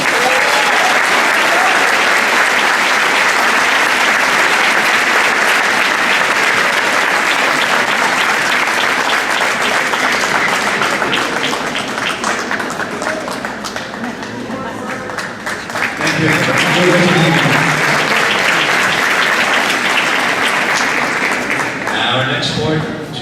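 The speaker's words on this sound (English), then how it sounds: "Please give a big round of applause to Albert Acosta." A crowd at a school fall sports awards ceremony claps loudly and continuously for a long stretch, dipping briefly in the middle before swelling again, with cheering and voices mixed in.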